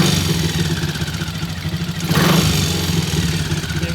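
A motorcycle engine runs and idles with a steady low throb and mechanical clatter, swelling briefly midway as if blipped, then settling back to a loud, even idle.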